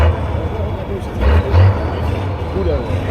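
A heavy truck engine roaring at full throttle during an off-road truck trial competition in Milovice, a loud, rumbling drone with surges, partly under close talking.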